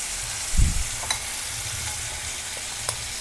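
Chicken tandoori pieces fry in oil in a pan over medium flame, giving a steady soft sizzle with one brief louder stir or clatter near the start, close and alone.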